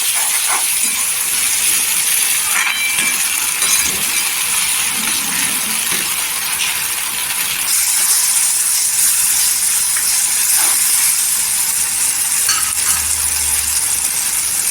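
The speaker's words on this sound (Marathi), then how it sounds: "इथे अद्रक लसूण पेस्ट आहे एक दोन चमचा टाकायचे पेस्ट खूप छान येते आणि तेलावर परतून घ्यायची छान परतायची" Ginger garlic paste sautéing in oil in a pan for a Bombay duck masala, heard as a loud continuous hiss and sizzle with occasional light clinks, close up and without talk.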